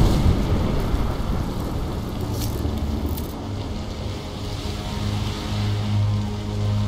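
Steady rain pours in the video game Hitman Absolution, with low thunder rumbling underneath throughout, a dense continuous wash of sound with no voices.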